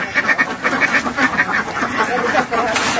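Ducks (itik) on a Filipino duck farm raised for salted eggs quack in a busy, overlapping chorus of repeated calls close by, with a voice talking over them.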